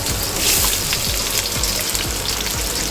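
Onions frying in a pan for Filipino bistec give a steady, loud, close sizzle with crackling pops throughout, alone with no talk.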